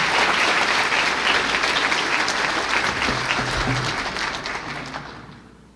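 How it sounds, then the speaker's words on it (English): A crowd at the Rocket Club Awards 2019 gives loud, sustained applause for the Media Athlete of the Year, a dense wash of clapping that gradually fades toward the close. "The Media Athlete of the Year is Cameron Brown"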